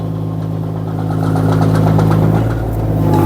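A Kobelco 1.2-ton mini excavator's engine revs up steadily as the machine begins driving, a loud, continuous close-up drone rising in pitch and holding strong.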